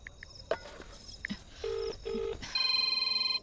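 A telephone keypad being dialed: a quiet series of short, separate tone beeps, then a few paired tones, ending in a steadier pulsing ring tone.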